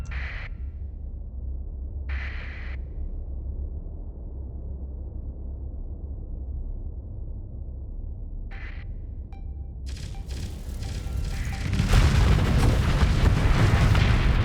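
Torpedo explosions in space combat in the video game Starsector: a few short separate blasts, then a dense, loud barrage of rumbling booms that builds toward the end.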